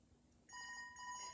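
A telephone ringtone starts abruptly after a short quiet pause and keeps sounding in steady, bright electronic tones, fairly faint and with no talking.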